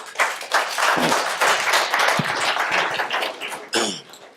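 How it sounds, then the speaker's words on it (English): A seminar audience gives a round of applause, loud close clapping from many hands with a few sharp individual claps standing out, tapering toward the end as a voice briefly cuts in. "So give Wilson a round of applause."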